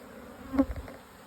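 Honey bees, including a large drone, buzz around an open hive frame with brood during a close hive inspection, a brief swelling drone of wings that rises and fades within about a second.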